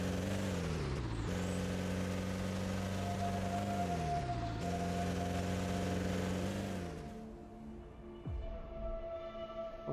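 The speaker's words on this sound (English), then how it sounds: "The engine noise could maybe use a little bit of work." Springbok vehicle engine in the game Cepheus Protocol, a droning motor whose pitch repeatedly climbs and drops as it revs through gears, then settles to a lower hum with a whistling tone near the end.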